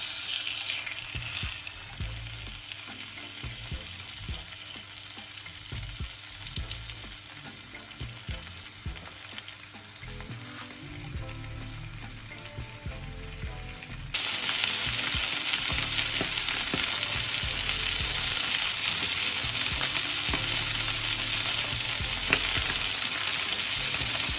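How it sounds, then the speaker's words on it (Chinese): Chicken thighs pan-frying skin-side down in a thin layer of oil, a steady crackling sizzle with occasional stirring scrapes, growing noticeably louder and denser about halfway through. "放入我们的鸡肉，把鸡皮煎至酥脆"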